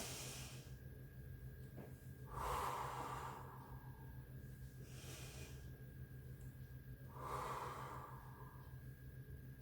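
Slow, controlled breaths during a Pilates exercise, inhaling and exhaling in two long airy swells a few seconds apart over a quiet steady background hum.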